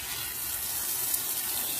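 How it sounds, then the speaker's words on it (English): Water poured onto mounded soil in potted plants, a continuous close gushing splash with no pauses and no voices. "And now you can just kind of water them."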